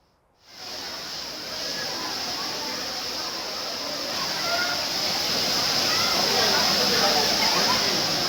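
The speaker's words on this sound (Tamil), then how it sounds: "குற்றாலத்தில் உள்ள அனைத்து அருவிகளிலும் சீராக நீர் விழுந்து வருவதால்" The Courtallam waterfalls pour steadily, a dense, unbroken roar of falling water that starts abruptly and holds at an even, close, loud level throughout.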